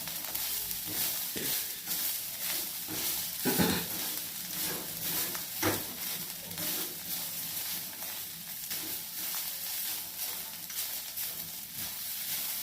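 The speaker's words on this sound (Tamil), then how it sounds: "ஒரு முப்பது செகண்டு நல்லா வதக்கிக்குவோம்" Ingredients for a chutney are sautéed in a pan, giving a soft, steady sizzle close by with repeated scraping and stirring strokes of a utensil against the pan and occasional metallic clinks, with no voices.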